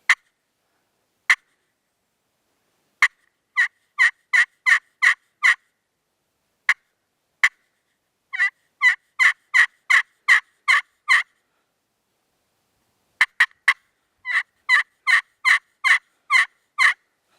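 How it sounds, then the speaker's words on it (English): Turkey clucks and yelps worked on a hand-held friction call, sharp isolated clucks followed by quick even runs of five to seven yelps, repeated in clear bursts with silence between and no talking. "Okay, now I'm going to throw in some clucks and yelps."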